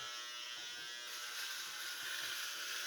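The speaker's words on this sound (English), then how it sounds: "I also use the same shaver to shave my face and whatever else" A close, continuous buzz from an electric shaver working across a shaved head. The tone grows slightly brighter and fuller partway through as the blades press against the scalp. No voices are heard.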